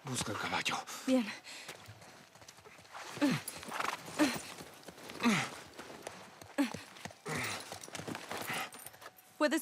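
A horse in the video game The Last of Us Part I, its snorts, whinnies and hoof clip-clops coming in repeated bursts under game music and ambience, close and fairly loud.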